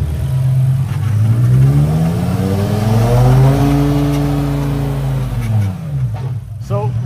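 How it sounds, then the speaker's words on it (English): A BMW M5 E60 engine with a suspected rattling pulley idles loudly and steadily, then swells in a slow rev and drops back, with a steady mechanical drone throughout. "One weird noise coming from the engine, which we don't really know what it is."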